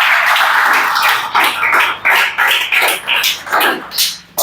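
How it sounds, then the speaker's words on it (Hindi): Loud clapping from a group in a police recruitment quiz class, a dense burst of many hands slapping together, then gradually thinning out. "जोरदार ताली बजाओ जी"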